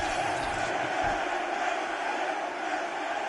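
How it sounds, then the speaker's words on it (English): Arena crowd in the UFC 6 video game roaring and cheering steadily as a new fight round begins, a dense continuous wash of voices at constant loudness from start to finish. "The crowd on its feet as this next round gets underway"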